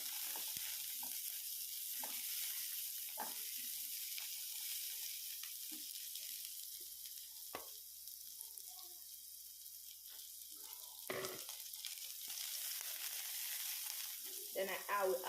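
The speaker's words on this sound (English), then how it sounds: "Just add a little bit of oil to the pan. Then your chopped onion," Chopped onion frying in a little oil in a pan, a steady soft sizzle with light scattered clicks and a stirring scrape near the end, without any voices.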